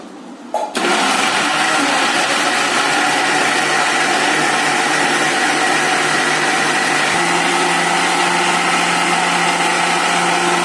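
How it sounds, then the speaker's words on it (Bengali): A kitchen mixer grinder blends mango pulp with a loud, steady motor whir that starts abruptly near the beginning and runs continuously, dropping slightly in pitch partway through as the load changes. "এবার মিক্সি ঘোরানো হবে।"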